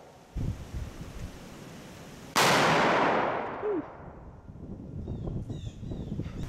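A single loud muzzleloader rifle shot firing a Hornady Monoflex 250 grain bullet outdoors, a sharp blast that rolls off into a long fading echo, with light wind and rustling before and after.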